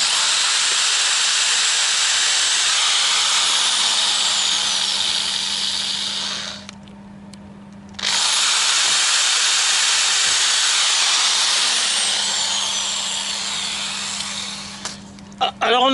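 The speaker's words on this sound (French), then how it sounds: "perceuse, forêt de 2 mm." A power drill fitted with a 2 mm bit bores into a wooden strip from the front door trim of a Citroën Traction 11B. The drill whines loud and close, stops briefly midway, then runs again steadily.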